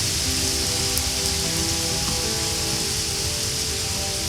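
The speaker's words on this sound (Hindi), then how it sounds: "उसके बाद घनघोर वर्षा होती है।" A heavy downpour pours down in a dense, unbroken hiss of rain striking surfaces, steady and enveloping from start to finish, with no voices.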